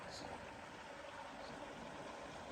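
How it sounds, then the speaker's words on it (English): Glacial meltwater stream running near Leh in Ladakh, a steady, even rush of water that stays faint and somewhat distant throughout, with no voices over it. "The water's flowing down here from the glaciers."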